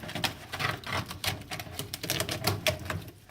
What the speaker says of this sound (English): go ahead and you can just rip it or use the scissors